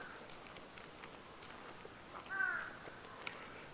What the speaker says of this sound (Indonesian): Jam segini di Jepang baru kedengeran suara-suara gagak.